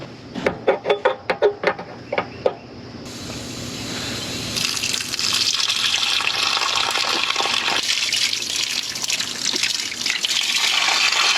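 Water from a hose gushes steadily through the cleaned-out block of an old Renault engine abandoned for 54 years, a continuous loud rushing flow that follows a few brief clanks at the start.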